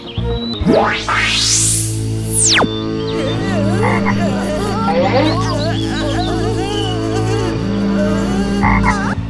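Loud, dense chorus of cartoon frogs croaking continuously, with a sharp rising-and-falling whistle-like sweep near the start, the croaks carrying on throughout.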